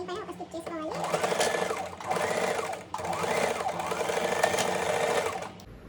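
An electric sewing machine stitching a deep-neck blouse runs in short bursts with brief pauses, its rapid whirring and needle clatter close and loud while someone talks over it.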